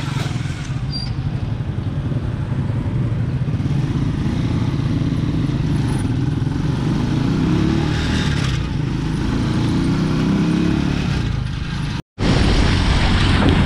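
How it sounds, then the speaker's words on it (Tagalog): A tricycle motorcycle drives fast over a rough road, its engine droning loud and close with constant rattling and clatter, briefly cutting out before roaring back. "Parang alog-alog talaga yung tricycle ba?"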